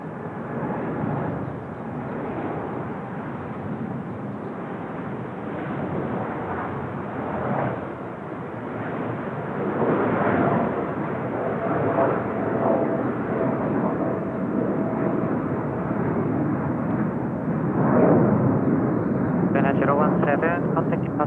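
A heavy airliner lands at Seoul Incheon Airport, a broad, steady roar of jet engines that swells and holds for about twenty seconds, loud and continuous across the whole stretch.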